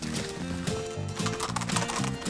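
Horse hooves clip-clop in a steady, even rhythm of paired hoofbeats, close and fairly loud, heard alone without voices.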